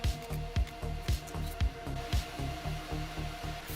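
A 20W Gweike G2 fiber laser engraver cutting thin aluminium plate gives a close, steady buzzing hum with regular rhythmic pulses and thumps repeating about every half second, with no talking.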